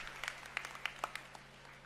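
A crowd at an Aam Aadmi Party political rally in Charkhi Dadri, Haryana, gives sparse, scattered applause: a handful of distinct claps over quiet background noise, thin rather than a full ovation.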